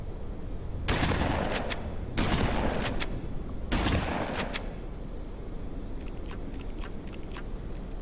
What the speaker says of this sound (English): what you get instead is this really light shotgun sound, and it just sounds incredibly weak as a result